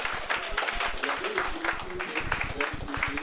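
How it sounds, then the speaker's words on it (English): An audience at an SME conference applauds its panelists, dense steady clapping throughout, with voices mixed in underneath. "A round of applause for them."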